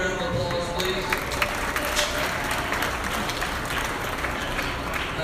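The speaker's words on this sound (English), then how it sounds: "Give them a round of applause, please" A crowd in a show barn at a swine show applauds a sponsor, dense continuous clapping with a faint voice and background noise underneath, steady and moderately loud.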